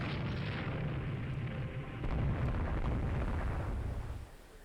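Naval gunfire and shell explosions in the strategy game Rule The Waves 2, a continuous dense rumble of booming artillery that swells midway and then drops off abruptly at the end.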